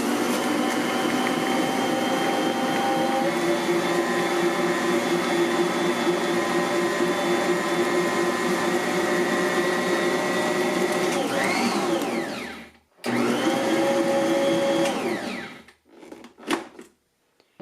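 A Bosch Universal Plus stand mixer creams butter and sugar with a loud, steady motor whir and beater hum. Near the end it cuts off briefly, restarts, then winds down to stop with a few clunks.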